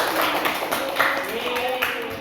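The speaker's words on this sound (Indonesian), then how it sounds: "tepuk tangan untuk teman-teman lagi" Students in a classroom clap in applause for classmates who answered correctly during a biology lesson on evolution, a dense steady patter of hand claps lasting the whole stretch, fairly close, with some talk mixed in.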